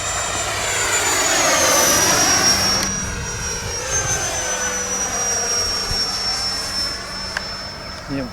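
A 3D printed Boeing 727 model jet flies a circuit at its maiden flight, its steady high engine whine drifting and fading as it passes at a distance, with people talking nearby.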